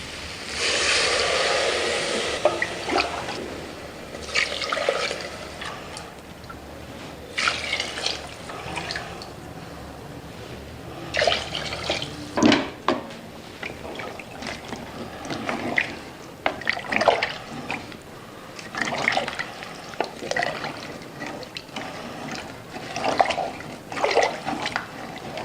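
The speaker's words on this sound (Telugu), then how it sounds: "1 లీటర్ వాటర్ యాడ్ చేస్తున్నాను ఇప్పుడు" About a litre of water being poured into a pressure cooker holding goat trotter soup with rock salt, heard as irregular splashing and gurgling bursts with pauses between pours, fairly close.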